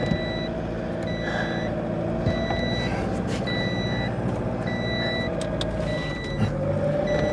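A car's rear parking sensor beeps in a steady, evenly spaced series of short tones, heard close over a constant engine and road rumble with no talk.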